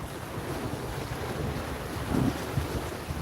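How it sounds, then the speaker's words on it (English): Blustery wind gusting to about 33 mph buffets the microphone in a steady rushing roar on a December carp-fishing outing, swelling into a stronger gust partway through, with water sloshing faintly underneath. "It's supposed to be like 33 mile an hour winds."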